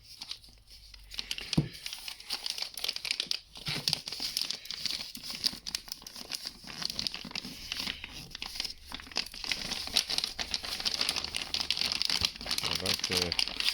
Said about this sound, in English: I like the sound of this plastic, quite strong.